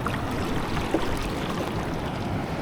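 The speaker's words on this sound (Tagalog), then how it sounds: "Yan na naman yung ulan, oh. Yan, ulan yan. Ulan na may dalang hangin." Steady broadband rush of rain driven by wind, a continuous washing hiss with no distinct drops, fairly close and even throughout.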